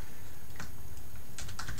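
Brief typing on a computer keyboard, a few scattered soft key clicks followed by a quick cluster of taps near the end, faint and close over a quiet room hum.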